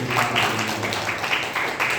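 Audience at an Arya Samaj gathering with Vedic bhajans applauding, a moderate steady patter of many hands at some distance, with voices mixed in.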